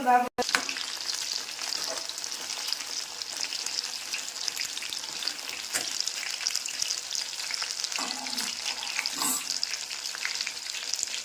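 Jackfruit bajji frying in a small pan with very little oil, a continuous crackling sizzle close by with a few soft stirring knocks, no voices.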